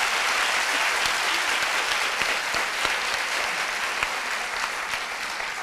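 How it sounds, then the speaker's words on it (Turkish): A large audience at a school children's event claps steadily for several seconds, a dense, even wash of hand claps with a few sharper individual claps standing out near the front. "büyük bir alkış"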